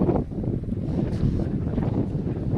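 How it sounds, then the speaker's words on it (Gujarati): Strong wind roars steadily at Morzar Mahadev, Nadri, in Sabarkantha, Gujarat, buffeting the microphone with a continuous low rumble and no pauses. "હાલ તો વાયરો ફૂલ છે યાર"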